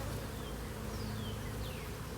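Bees hum around an opened hive being split, a dense steady buzz close by with droning tones that wobble as individual insects fly past, no talking.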